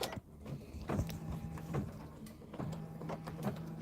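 Embroidery machine stitching a mug rug, a quiet repetitive mechanical whir with rhythmic clicks and thumps at intervals, nearby and steady with no talking.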